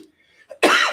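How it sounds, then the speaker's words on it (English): A single short, sharp cough bursts out close to the microphone after a moment of near silence. "COVID cough."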